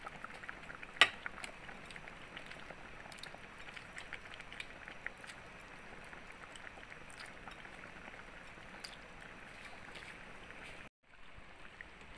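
A pot of prawn and pineapple coconut curry simmers on the stove, giving a soft steady bubbling hiss with a few faint clinks from utensils, continuous and quiet with no talking.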